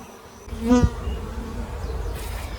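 Small swarm of honeybees being caught into a box, a close buzzing drone with a bee whizzing past the microphone, the hum rising briefly then settling into a steady low buzz.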